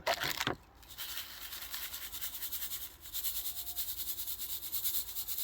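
A bag of paydirt is shaken out, giving a rhythmic, pulsing rustle and gritty rubbing close up, with a sharper scrape at the start and a brief pause midway before the shaking resumes.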